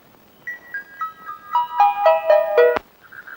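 A phone gives a short electronic ringtone melody of about a dozen quick stepped tones that rise and fall, ending with a sharp click and a faint tone afterward.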